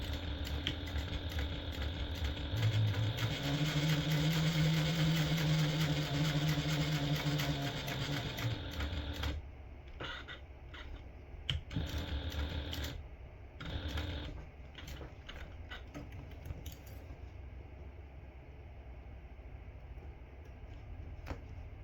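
A home sewing machine stitches a straight seam along an existing stitch line on a memo pad size notepad holder with a shaker panel, a steady close mechanical whir for about nine seconds, then stopping into scattered handling clicks and rustles.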